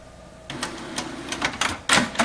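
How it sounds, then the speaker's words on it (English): A Canon 7520 printer printing over NFC whirs and clicks close by, with a steady mechanical hum broken by sharp rhythmic clacks of the paper feed. "this is NFC printing"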